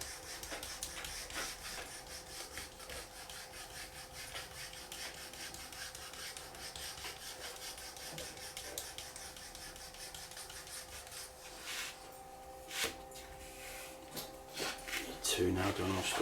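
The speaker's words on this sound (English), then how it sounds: "what we're doing is we're just burnishing the edges" Leather strop edges for straight razor sharpening being burnished by hand, a faint continuous rubbing and scraping texture that is quiet and close, with a few sharper knocks near the end.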